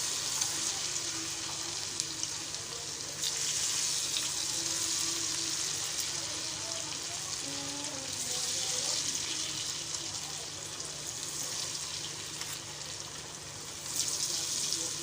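Balls of bhaji batter drop into hot oil and fry with a soft, continuous sizzle and bubbling, faint and steady throughout, with small stirring sounds.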